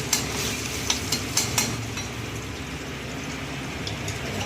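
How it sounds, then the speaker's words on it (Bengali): Garlic frying in a pan gives a steady, moderate sizzle, with a few sharp utensil clicks early on and then an even hiss. "রসুনটা আগে ভেজে নিচ্ছি"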